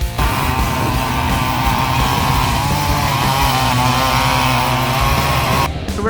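Two quad ATVs, a Yamaha Raptor 700 and a Predator 560, roar along in a drag-style roll race, a loud, steady engine drone that holds for several seconds before cutting off near the end.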